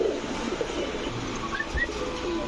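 Big Rajgolla pigeons of the Manikganj breed coo softly in a loft, low murmuring calls with a few brief higher chirps over steady background noise.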